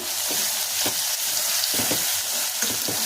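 Mushroom biryani masala paste frying in hot oil in a pan, a steady close sizzle with occasional stirring scrapes, no voices.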